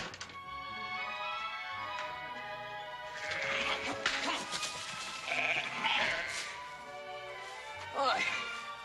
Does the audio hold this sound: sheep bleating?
yes